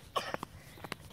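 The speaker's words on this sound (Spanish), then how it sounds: "Oh, tiene tos." A child coughs a few times in a park, with short, fairly faint bursts separated by brief pauses and light background noise.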